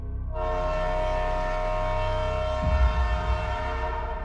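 A train stands ready at a station platform, its engine running as a steady, sustained horn-like tone holds for about four seconds, with a rougher rumble of rail movement rising near the end.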